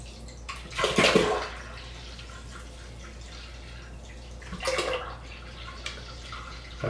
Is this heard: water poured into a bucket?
yes